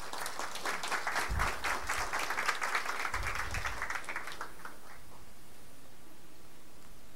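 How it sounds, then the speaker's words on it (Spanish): A short round of applause from a small conference audience, crisp clapping at moderate distance that fades out after a few seconds into quiet room tone. "Un aplauso para recibir a Esteban."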